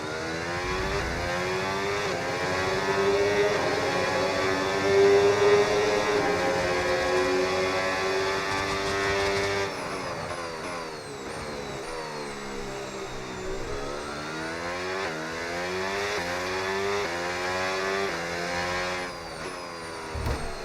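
Formula 1 race car engines scream in the F1 26 video game at Monaco, a loud sustained high-pitched whine that rises and falls with gear changes and revving throughout, without speech.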